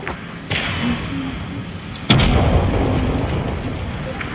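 AMX 13-90 light tank cannon firing in a video game: two heavy booming blasts, a lighter one near the start and a louder, fuller shot about two seconds later, set over steady low engine rumble.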